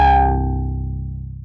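A single loud synthesized dubstep downbeat bass hit with a bright attack that decays into a buzzing, wobbling tone over about a second and a half.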